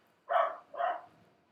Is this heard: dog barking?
yes